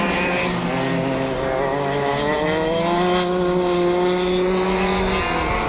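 KZ shifter go-karts race on a demanding French karting circuit, several high-revving two-stroke engines droning together close by, pitch climbing and holding steadily as they accelerate, loud and continuous with no talk.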